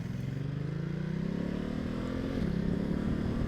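A 2020 Ducati Multistrada 1260S motorcycle engine runs with a steady low throb close by, its pitch rising slightly as the bike pulls away.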